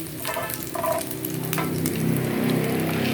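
Garlic sautéing in a hot pan gives a steady, close sizzle and crackle throughout, with brief stirring scrapes near the start.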